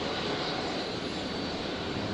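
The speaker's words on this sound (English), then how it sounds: "Dash 8400 here, just coming in from Adelaide." A Dash 8-400 airliner arriving at Brisbane airport from Adelaide, giving a steady, loud engine roar that fills the whole short stretch without a break.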